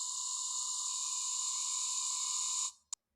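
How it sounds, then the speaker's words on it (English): A high-pitched electric buzzing hums steadily for a few seconds, then cuts off, followed by a single short click; fairly quiet with no talking. "This is the sound of an electric shaver,"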